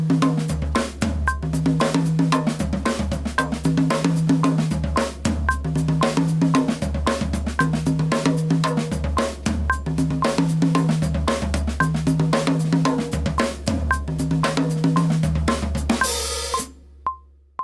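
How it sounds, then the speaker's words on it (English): A drum kit plays a steady groove with the hi-hat foot stepping on eighth notes, a bright ticking pulse over repeating bass drum and snare hits, continuous and close until an abrupt stop near the end. "So the next thing that we're going to incorporate is to step our hi-hat on eighth notes"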